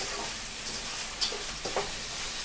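Rice with vegetables and squid fries for paella while being stirred, a dense close sizzle with a couple of soft scraping stirs.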